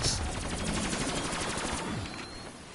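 A weapon in a zombies video game fires a rapid, continuous burst of automatic shots that rattle loudly for about two seconds, then ease into a softer tail.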